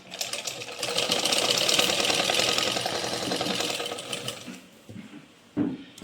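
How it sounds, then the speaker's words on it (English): A sewing machine stitches a belt-style blouse, a steady, fast mechanical whir running for about five seconds before it slows into a few scattered clicks and a short final burst. "Stitch వేస్తున్నాను friends."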